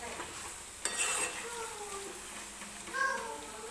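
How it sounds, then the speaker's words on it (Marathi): Masala paste for spicy dry mutton sukka frying in oil in a pan, a steady soft sizzle with scraping stirs and a couple of sharper clinks, close by, with faint voices in the background. "तर हा मसाला आपल्याला तेल सुटेपर्यंत व्यवस्थित भाजून घ्यायचा आहे"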